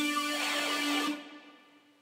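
An Alchemy Water Shredder synth lead preset run through a Bit Crusher sounds one sustained, buzzy note with gritty harmonics, fairly soft, cutting off and fading after about a second, with no voices.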